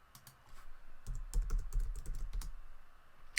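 Quick, irregular keystrokes on a computer keyboard as a login name is entered, a short burst of close clicks and taps with no talking.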